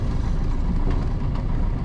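Cessna Skyhawk 172R light aircraft engine heard from inside the cockpit, a steady low rumbling drone with a slight rhythmic flutter, close and continuous with no talk.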